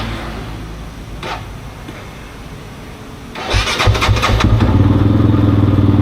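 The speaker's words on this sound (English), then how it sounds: "when you start the bike, see, battery problem" A Kove 450 Rally motorcycle with a battery problem cranks briefly after a quiet stretch, then its engine catches and settles into a loud, steady close-up idle.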